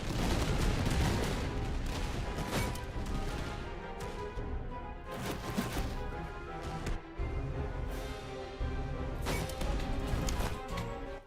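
Musket volleys crack out in dense, repeated bursts across a Napoleonic-era battle in the game Master of Command, sharp broadband reports layered over a steady roar of battlefield noise for the whole stretch.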